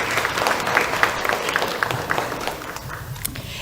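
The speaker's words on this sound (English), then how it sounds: "Let's have a round of applause for London" Steady applause from an audience at a National Honor Society induction ceremony, continuous and moderately loud throughout, with scattered claps standing out from the dense crowd clapping.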